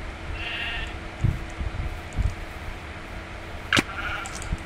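Sheep in the Minecraft video game bleat twice, a short nasal bleat early and another near the end, over a low game background with brief clicks.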